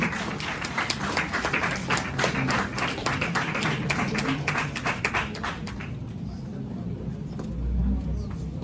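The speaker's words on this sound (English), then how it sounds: "Welcome to you, sir, with a big round of applause." An audience at a World Intellectual Property Day event claps in a dense, sustained round of applause that thins out after several seconds, with some voices underneath.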